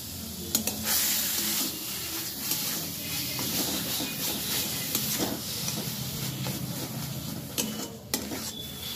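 Coconut paste is stirred in a frying pan, a soft scraping and shuffling over a low sizzle, close and continuous, with occasional sharper knocks of the spoon against the pan.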